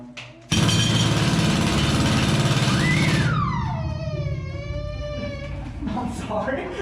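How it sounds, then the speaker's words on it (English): An air-powered mining drill bursts on inside a gold mine, a loud rattling roar that runs for a few seconds, then stops, leaving a long ringing echo that decays through the tunnels. "listen to the echo that this drill creates throughout this mine"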